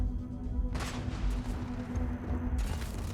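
A big grenade weapon goes off in the Starfield video game with two loud, booming blasts, one early and one near the end, over a rumbling low background.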